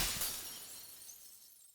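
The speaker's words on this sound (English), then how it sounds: "The sound of shattering glass echoes through my body." Glass shatters in the visual novel game Tsukihime: A Piece of Blue Glass Moon, a single sharp, bright crash whose tinkling debris trails away over under two seconds, with no voices.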